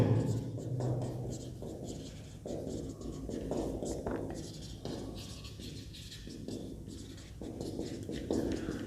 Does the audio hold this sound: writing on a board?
yes